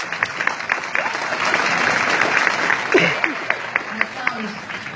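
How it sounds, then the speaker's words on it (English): An audience at a first grade school assembly claps for several seconds, a dense patter of applause with a few sharper individual claps and faint voices underneath. "Give them a round of applause, please."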